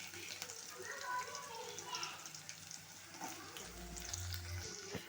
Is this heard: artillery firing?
no